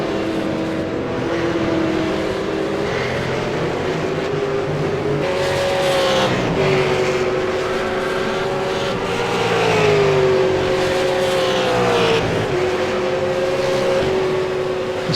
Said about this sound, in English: Spa, of course, a very different track in a 650 horsepower V8 supercar that still has a locked diff.